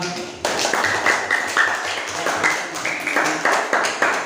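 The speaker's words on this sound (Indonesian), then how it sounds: "Tepuk tangan untuk kelompok iman" A class of schoolchildren claps together after a group presentation, a burst of applause that starts abruptly and continues steadily with light rhythmic patter, with a voice briefly audible.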